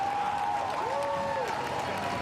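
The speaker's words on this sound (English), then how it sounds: "Sam Bird emerges to the roar of the crowd" A crowd at a Formula E race podium ceremony in Putrajaya, Malaysia roars and applauds in a steady, continuous wash of cheering and clapping, with a sustained tonal sound running through it.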